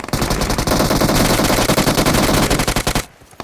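Rapid automatic gunfire in a video game, loud and close, as a fast run of sharp shots rattles on for about three seconds before cutting off abruptly.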